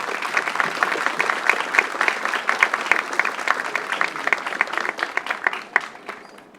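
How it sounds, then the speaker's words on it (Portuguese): Steady applause from the audience at the ESG Highlights 2025 awards ceremony, many hands clapping at a moderate distance with a few sharper claps standing out, tapering off at the end. "Uma salva de palmas às 100 empresas."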